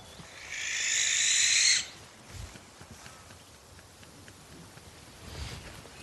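A barn owl gives one harsh, hissing screech lasting over a second, fairly close in a quiet open field, followed by faint rustles and low thumps.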